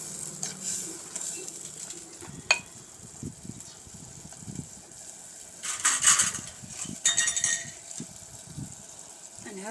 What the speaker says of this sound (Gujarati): મેશરની મદદથી જુઓ સરસ રીતે આપણે આ બધું મેશ કરી લેવાનું છે।